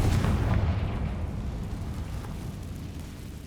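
A Confringo fire spell blast in the Hogwarts Legacy game, one deep booming explosion that hits loud at the start and rumbles away over several seconds, no voices.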